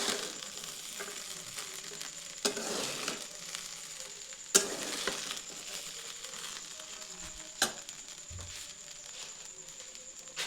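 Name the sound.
chicken fried rice being stirred and sizzling in a pan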